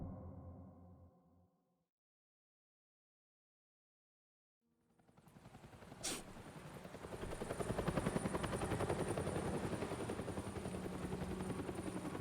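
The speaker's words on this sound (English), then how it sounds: "Helicopter." Helicopter in Telltale's Batman video game: after a brief low rumble and several seconds of silence, a loud rotor thrum rises in, with a sharp burst near the start, and holds steady and strong to the end.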